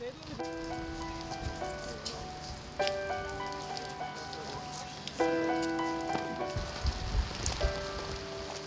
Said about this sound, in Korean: 비가 많이 내리면서 기온까지 뚝 떨어져